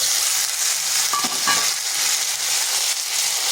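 Spices and ginger paste hit hot oil with fried potatoes in a pan, making a loud, continuous sizzling hiss with a brief clatter of stirring partway through.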